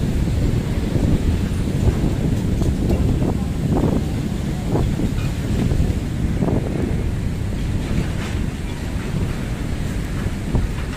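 Strong wind gusting along the Manila Bay baywalk, a steady broadband roar near the microphone with repeated louder gusts buffeting through the whole stretch, no voices.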